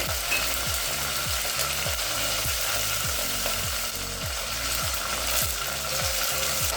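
Mustard seeds, garlic, dried red chilies and curry leaves fry in hot oil for a tempering, giving a loud, close sizzle with a regular series of scraping stirs and crackling pops.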